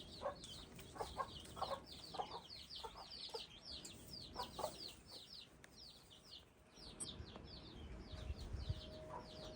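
Hens and their newly hatched chicks on the chicks' first outing, a mix of soft clucks and repeated high peeping calls close by, scattered through the whole stretch with no speech.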